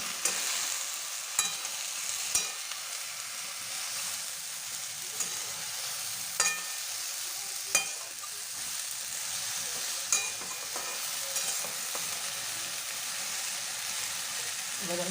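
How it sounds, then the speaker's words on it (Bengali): Bottle gourd leaves with poppy seed being stirred in a pan, a steady soft sizzle with occasional sharp scrapes and taps of the spatula against the pan, close and alone with no talking. "ভালো করে নাড়িয়ে নিতে হবে"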